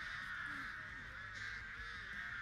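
Crows caw in the video game Dead by Daylight, a steady layer of harsh calls carrying through continuous game ambience for a couple of seconds, without clear voices over it.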